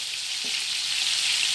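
Chicken drumsticks coated in masala fry in a pan, a steady close hiss of sizzling oil that runs unbroken throughout with a faint clink near the start and no voices.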